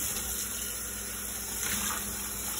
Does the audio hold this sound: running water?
yes